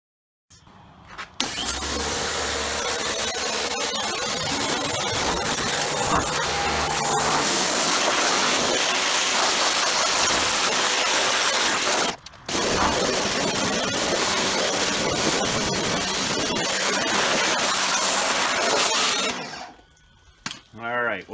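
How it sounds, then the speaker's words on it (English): An electric power washer blasts spray into a motor home radiator, a loud continuous hiss and motor drone lasting nearly twenty seconds with one brief cut, a voice talking beneath it. "take the electric power washer and blow that in further"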